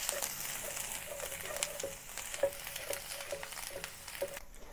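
Garlic and ginger sizzle in a pan over moderate heat, a steady close frying hiss with light rhythmic clicks of stirring throughout and no talk.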